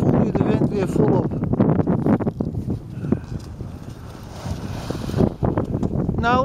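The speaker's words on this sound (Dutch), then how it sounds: "En hier voel je de wind weer volop." Strong wind buffeting the microphone while skating on a large frozen lake in a nature area near Wanneperveen in February, a steady roaring gust under a person talking throughout.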